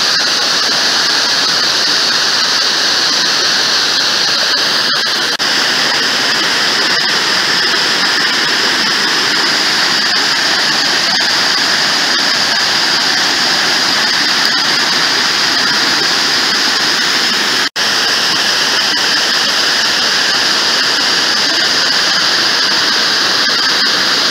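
Kuang Si waterfall near Luang Prabang roars in a steady, loud, continuous rush of falling water that carries on without letup, with no voices heard.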